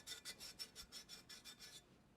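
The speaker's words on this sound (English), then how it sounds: "I'm just sanding right up in this little curve here of this pitcher" Quiet, rhythmic rasping of sandpaper rubbed back and forth inside the curve of a ceramic pitcher, about ten even strokes close up, then stopping.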